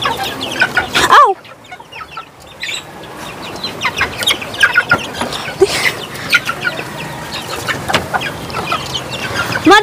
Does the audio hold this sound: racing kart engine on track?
no